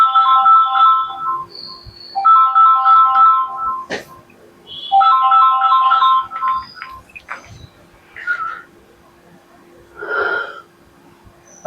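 A phone rings in repeated electronic bursts, loud and close, three ringtone phrases separated by short gaps, followed by a few odd short noises and quieter sounds toward the end.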